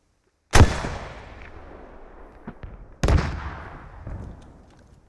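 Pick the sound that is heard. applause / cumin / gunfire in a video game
gunfire in a video game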